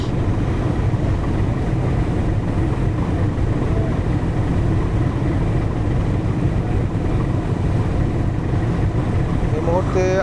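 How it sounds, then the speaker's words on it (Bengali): Four-storey luxury passenger launch MV Mayur 10 cruising at speed on the Dhaka–Chandpur river route, a steady loud engine drone and water rush with wind, continuous throughout. "ঢাকা চাঁদপুর রুটের বিলাসবহুল লঞ্চ এমবি ময়ূর দশ চারতলা লঞ্চ"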